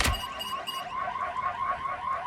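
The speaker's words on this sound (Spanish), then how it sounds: "La alarma se activa" An alarm sounds in a film scene inside a house: a steady, piercing electronic tone with pulsing repeats, loud and sustained from start to finish.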